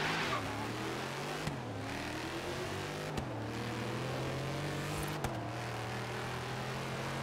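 A Dodge Charger R/T accelerating in a Forza Horizon 3 race, its engine note climbing steadily and dropping briefly at three gear shifts, loud and close throughout.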